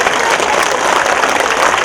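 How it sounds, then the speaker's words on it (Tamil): Loud, thick applause from a large audience at a community meeting, a continuous roar of many hands clapping close and steady throughout. "நல்ல ஒரு பலத்த கரகோஷம் கொடுங்க"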